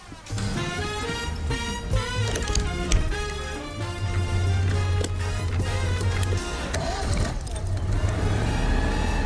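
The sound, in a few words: Citroën 2CV car driving off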